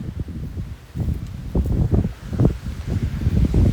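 Gusty outdoor wind buffeting a microphone on a windy Florida day, with rumbling low bursts that rise and fall irregularly throughout, loud and close, with no talking.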